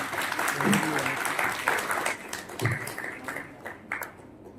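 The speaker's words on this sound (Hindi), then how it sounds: "जोरदार तालियों के साथ" Audience applause at a Lions Club book launch event, a crowd clapping steadily for several seconds with some overlapping talk, loud and sustained, tapering slightly toward the end.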